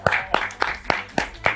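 Sparse, sharp hand claps at a steady pace, about six in quick succession, sound close and fairly quiet as a small group welcomes Arianda Sodi onto a show.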